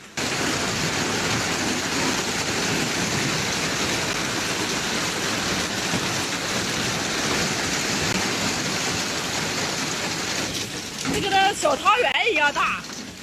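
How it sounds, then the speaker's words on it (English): Hail pelting down during a hailstorm at Tanzhe Temple in Mentougou, Beijing: a dense, steady roar of hailstones striking the ground, continuous and loud throughout, with a brief burst of voices near the end. "Hail hit the ground in Mentugo, Beijing, even smashing down on cars."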